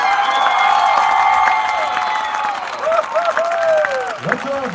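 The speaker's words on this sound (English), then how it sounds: "Giving him a huge round of applause" A football crowd at a Rochester Lourdes–Caledonia high school game claps and cheers for a coach's 200th career win, a broad steady roar of applause with whoops, under a public-address voice that talks over it.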